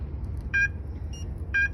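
Ramtech WES3 alarm system base station chirping on a training bench: two short, clear electronic beeps about a second apart over a low steady hum, close and distinct.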